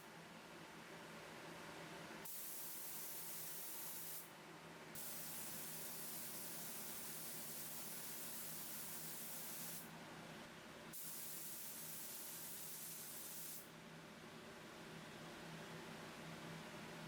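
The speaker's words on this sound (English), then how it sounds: "I run about 20 psi whenever I'm spraying this vinyl sealer" A steady hiss of a spray gun atomizing vinyl sealer at about 20 psi, running in long continuous bursts with brief breaks between passes, close and loud.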